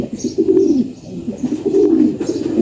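Pigeons coo in a close, steady rolling rhythm beside a pigeon chick in a loft coop where a single dove also roosts, with the low throaty calls repeating throughout and nobody speaking.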